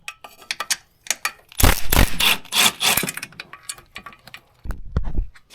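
A 12 mm exhaust bolt on a Yamaha TW200 being worked loose with a wrench on a wobble extension, giving a close series of clicking ratchet strokes and scraping metal bursts with short pauses between them.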